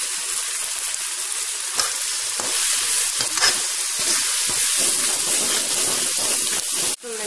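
Ginger garlic paste sautéing in a hot pan for an egg paniyaram gravy, a steady loud sizzle and crackle of frying with occasional stirring scrapes, continuous throughout with no talk.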